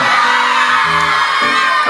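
Children shouting and whooping outdoors at a holiday resort in Truskavets, a loud, continuous mix of young voices calling out with no pauses.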